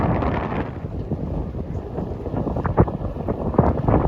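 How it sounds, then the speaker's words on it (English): Wind at about 20 knots gusts across a sheltered boat anchorage off the east coast of Australia, a steady low buffeting rush at the microphone with occasional sharper bumps, no voices. "Wind is blowing about 20 knots, and we've got nice protection here."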